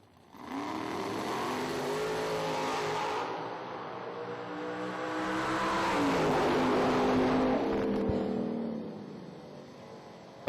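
Drag racing launch of a rear-engine dragster running a 516 against a 1973 Camaro running a 565, loud sustained engine roar with rising revs that swells and fades as the cars pull away down the strip.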